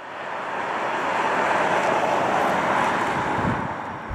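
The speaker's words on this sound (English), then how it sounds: "you hear a lot of road noise and tire noise." Tesla Model X driving on a highway on-ramp, with steady broadband road and tire roar filling the cabin, loud and continuous without a break.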